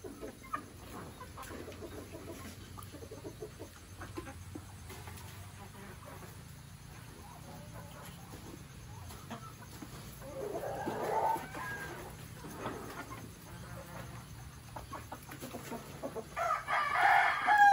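A large rooster clucks and crows outdoors among other fowl, faint at first and growing louder toward the end, with people talking nearby.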